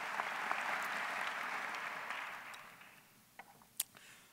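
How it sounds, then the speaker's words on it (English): Applause from a university convocation audience for two speakers, many hands clapping steadily and loudly before tapering off, leaving a few isolated sharp claps or knocks near the end. "another round of applause for our great speakers, Chad and Chris"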